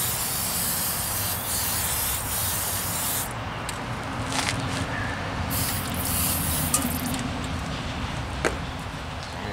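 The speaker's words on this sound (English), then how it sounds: "Put some of this on. And just spray it around." Bursts of hissing spray from an aerosol can of lubricant, several short sprays close by over a steady background noise, during front brake work on a 2015 Toyota Corolla S.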